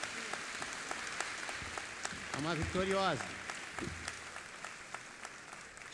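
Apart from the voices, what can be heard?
church congregation applauding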